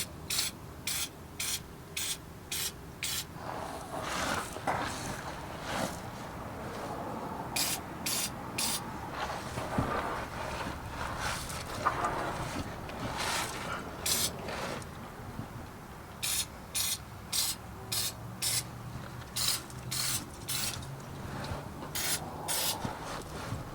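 Repeated short hissing bursts of industrial RD90 lubricant spray onto trailer leaf springs, arriving in quick clusters with pauses between them, close and fairly crisp over faint rubbing sounds.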